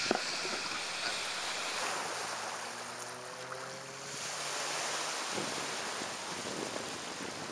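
Ocean waves at Playa Ramírez beach wash steadily in a continuous broadband rush, with wind noise on the microphone and a faint low engine-like drone passing midway; no one speaks.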